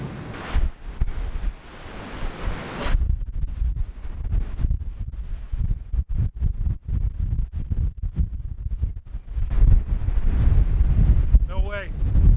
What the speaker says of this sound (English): Because the wind will bend that thing in half.